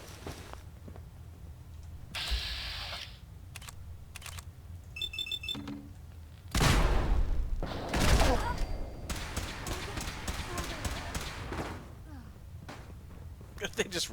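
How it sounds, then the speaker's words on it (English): Gunfire in Fallout 4 at Boston Airport: scattered bursts and sharp single shots, with a dense louder volley in the middle, under occasional voices and game sounds. "Are they just randomly shooting at shit?"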